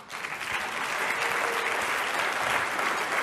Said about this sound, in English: Another big round of applause for Candace Owens.